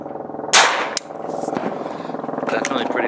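A .22 LR round fired from a 12 gauge shotgun outdoors gives one sharp, loud report with a short tail, followed by a steady engine drone and faint clicks.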